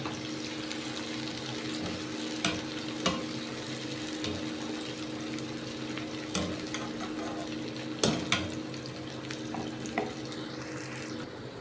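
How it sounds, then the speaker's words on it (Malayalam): Sliced onions frying in oil for a squid roast produce a continuous moderate hiss, broken by occasional sharp clicks and scrapes as they are stirred in the pan. "നമ്മുടെ ഉള്ളി ഇവിടെ നന്നായിട്ട് നമ്മൾ ഇരിഞ്ഞ് വന്നിട്ടുണ്ട് കേട്ടോ"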